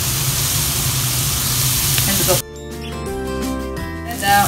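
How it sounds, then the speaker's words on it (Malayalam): Onions sautéing in a hot pan with garlic and ginger for chicken sandwich pakoda, a steady loud sizzle that cuts off abruptly partway, followed by quieter clinks and stirring. "എല്ലാം കൂടി ചേർന്ന് ഒരുമിച്ച് നന്നായി വഴറ്റിയെടുക്കാം"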